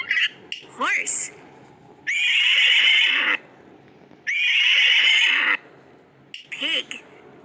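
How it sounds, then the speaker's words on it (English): A horse neighing and whinnying, close and loud, in two long calls with shorter snorting bursts around them. "Horse."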